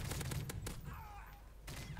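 Gunfire in the video game Modern Warfare 3, a rapid burst of several sharp shots followed by a brief lull and another shot, fairly faint in the game mix.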